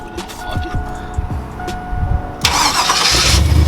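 A Chevrolet Silverado truck, just fitted with a new starter in a parking lot, cranks and catches, building into a loud, close engine roar that keeps running to the end; voices are heard before it turns over.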